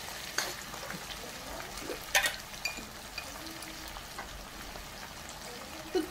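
Onions and tomatoes cooking in a pan with red chili powder for a pumpkin curry make a faint, low sizzle with scattered soft pops and a few spoon clinks against the pan.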